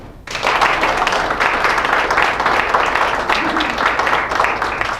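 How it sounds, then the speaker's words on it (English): A standing audience at a public speaking event claps their hands together in sustained, dense applause from just after the start to the end, steady and loud with no break. "Thank you for the standing ovation."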